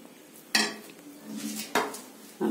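Eggplant curry (kathirikkai kuzhambu) is ladled out in a home kitchen, with three sharp metallic clinks of a ladle against pots spaced through quieter stirring and scraping sounds.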